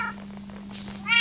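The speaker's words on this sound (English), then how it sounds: "Look how many cats there." Cats in the Good Craft video game meow in two short bright calls, one at the start and a louder one at the end, separated by a steady electronic hum with no voices.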